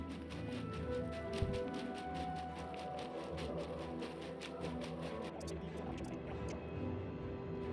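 Character wading through water in the video game Oblivion, a steady liquid swishing and sloshing that runs continuously at moderate level beneath game ambience and music.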